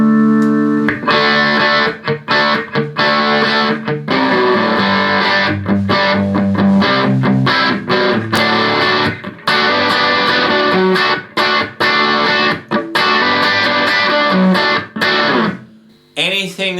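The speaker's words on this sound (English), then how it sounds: "That's one of the worst distortions I've ever heard on anything." Heavily overdriven, harsh drive distortion applied to a dense musical sound, with the upper range turned to a gritty, white-noise-like fizz. It plays loud and continuously with brief dropouts, and no one talks over it.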